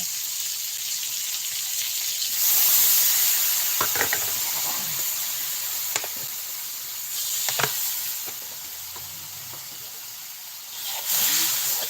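Pork frying in a pan for stir-fried Chinese kale, giving a steady broadband sizzle across the clip, with a louder hiss when the meat goes in and a few sharp knocks of a utensil against the pan.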